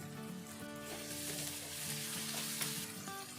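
Tomatoes and green chilies frying in a karahi with coriander powder and turmeric give a steady, close sizzle that holds throughout, with music playing underneath.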